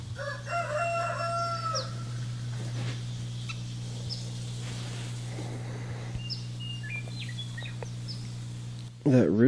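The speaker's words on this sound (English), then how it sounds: "But he started crowing at 5 in the morning." A rooster crows at dawn around 5 a.m., several rising calls heard at moderate distance over a steady low hum, with brief talk and a louder burst near the end.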